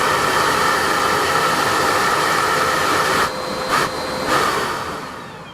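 Loud, steady whooshing drone of a Makita cordless vacuum that starts automatically alongside a circular saw, running continuously and then dipping briefly before holding at a slightly lower level.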